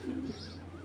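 A white racer pigeon, a 2015 club bird from a pair, gives a short low coo near the start, soft and close, then fades into quiet room noise.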